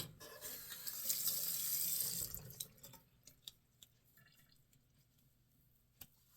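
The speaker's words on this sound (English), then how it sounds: "Okay, I'm going to rinse." Water from a tap runs loudly while a safety razor is rinsed for about two seconds, then it stops, leaving scattered drips and light clinks in a quiet room.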